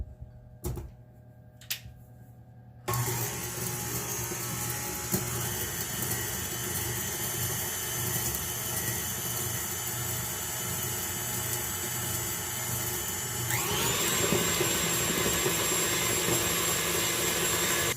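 An electric mixer beats cranberry cake batter with vanilla in a home kitchen, starting after a few seconds of near silence and then running as a loud, steady whir that continues without a break and rises slightly in pitch near the end.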